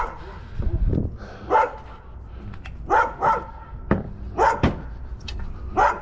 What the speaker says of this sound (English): there's a dog, and I know with that video it's gonna be loud